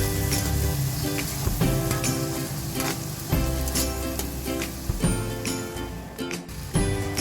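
Tomatoes sauté in a pan for ginataang hipon while they are stirred, a constant close sizzle broken by scraping and knocking strokes of the spoon every second or so.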